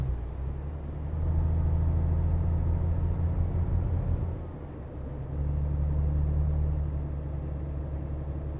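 Heavy truck driven through a city in a truck simulator game, a steady low engine drone holding throughout with a brief dip midway, alone with no talk.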